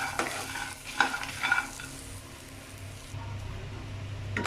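Coconut and peanuts being dry roasted in a pan give a steady soft sizzle and rustle, with a few scraping stirs near the start and a low hum underneath.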